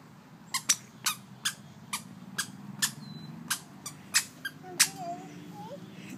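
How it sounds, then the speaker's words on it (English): Squeaky children's shoes chirp in a run of about a dozen sharp squeaks, spaced irregularly as a small child walks and jumps, close by with faint background noise. "Fun shoes for kids."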